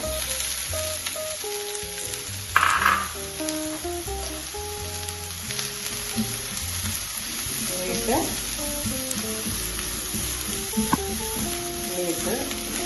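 Sliced onions sizzle steadily in hot oil while being sautéed for drumstick leaf thoran, a continuous close hiss with a few scraping stirs and occasional clatters of the spoon.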